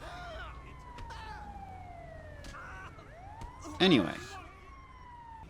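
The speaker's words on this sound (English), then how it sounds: "the strange siren we're hearing, but that's fine" Far off in Grand Theft Auto's Los Santos, an emergency vehicle siren drifts in with a faint rising and falling wail while someone speaks and a short louder sound cuts in.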